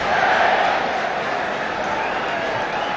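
Football stadium crowd roaring during Reading v Middlesbrough in 2006/2007, a broad, sustained wall of massed voices, loud and continuous, swelling slightly at first and then holding steady.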